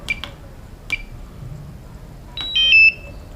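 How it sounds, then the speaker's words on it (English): Short electronic beeps from a DJI Mavic Mini remote controller as it powers off: a few brief tones near the start, then a louder two-tone confirmation chime at the end, close and clear with no talk. "Get a confirmation beep,"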